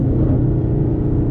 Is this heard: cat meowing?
no